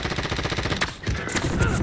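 Gunfire in Call of Duty Warzone: a rapid, loud burst of repeated shots fills the first part, then a sharp crack and a few scattered heavier reports follow close by, with no talk over them.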